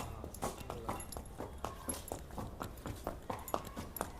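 Horse hooves clip-clop in a steady, even gait during a ride, each hoofbeat crisp and moderately close, repeating rhythmically over a low outdoor rumble.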